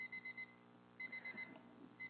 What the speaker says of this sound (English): Oh, there's our timer.